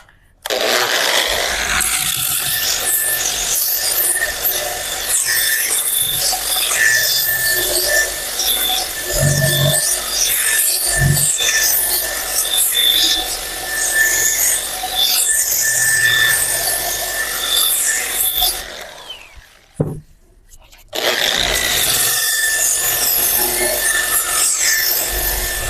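Sandpaper is rubbed by hand across a reclaimed solid wood coffee table, a loud close rasping scrape in steady back-and-forth strokes, breaking off briefly near the end before resuming.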